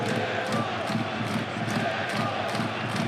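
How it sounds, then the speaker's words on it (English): A near-capacity football crowd at Adams Park for a League Cup match between Wycombe Wanderers and Aston Villa, giving a steady, dense roar of many voices with rhythmic swells, loud and continuous throughout. "A near capacity crowd for Wycombe Wanderers against Aston Villa."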